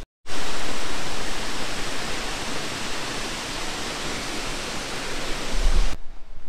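A waterfall roars in a constant, dense rush of falling water, loud and unbroken from start to finish.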